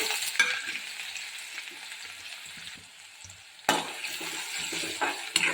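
Mustard seeds crackle and splutter in hot oil in a home kitchen pan, a steady close sizzle with scattered pops that swells louder again midway.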